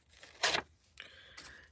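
Paper being torn by hand for a masterboard collage: a sharp rip, then two shorter tearing strokes, close and fairly quiet, with no talk.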